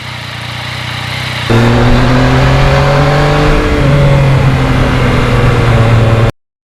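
A steady engine drone from a 2020 Yamaha MT-09 motorcycle, with a rising whine as it accelerates and shifts, loud and continuous with wind noise, cutting off abruptly at the end.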